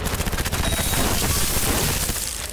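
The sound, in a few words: gunfire in Cyberpunk 2077 video game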